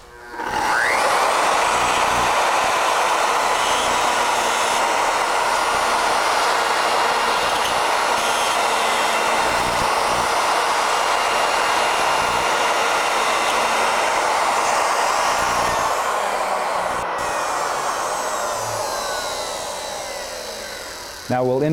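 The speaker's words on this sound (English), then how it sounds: "For milling the mortises, we'll use a 1/4 inch spiral upcut." A router on an ornamental mill cutting mortises with a 1/4 inch spiral upcut bit, giving a loud, steady high whine that holds for about twenty seconds and tapers at the end, close up.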